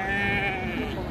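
Lambs bleat at a sheep market in Ganja: a single close, loud, wavering bleat lasting about a second, with a murmur of market background beneath it.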